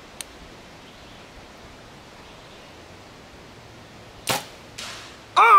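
An arrow loosed from a bow in the dark gives a quick whoosh after several seconds of near silence, followed by further short, sharp impacts close by.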